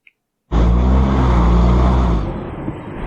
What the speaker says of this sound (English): somebody took over the brakes of a Jeep